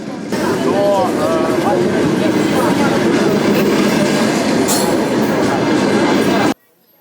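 A passenger train rumbles loudly at a station during a wartime evacuation, with steady wheel noise, clanking and a faint squeal, and voices murmuring underneath before it cuts off abruptly near the end.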